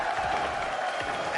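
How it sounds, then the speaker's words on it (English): An arena crowd at the Rocket League World Championship cheers and claps in a dense, continuous roar, with a voice faintly mixed in. "You're hearing all the chants, the cheering, the clapping here."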